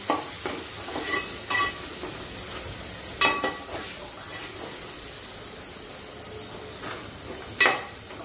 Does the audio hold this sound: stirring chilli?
yes